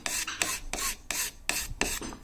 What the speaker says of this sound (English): it's a card scraper again. Just taking up some of that lacquer or varnish.